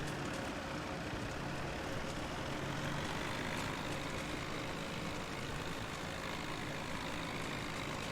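A tractor engine runs steadily in Farming Simulator 17, a continuous droning rumble at constant loudness throughout, with no voices over it.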